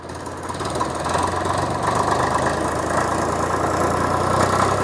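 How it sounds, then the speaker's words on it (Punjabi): A Swaraj 744 tractor engine runs steadily in gear, a loud, close, continuous diesel chug with a knocking rhythm that holds even throughout, with no talk. "ਗੇਅਰ ਪਾ ਲਿਆ ਜੀ ਆਪਾਂ ਪਹਿਲਾਂ ਤੋਰ ਲਿਆ ਜੀ ਆਪਾਂ"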